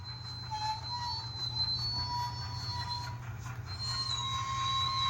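Steady electronic whine with high squealing tones and a low hum from a TCS WOWsound model train decoder braking, like a small motor slowing down, continuous with no voices.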